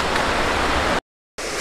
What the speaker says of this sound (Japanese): すごい滝だらけで、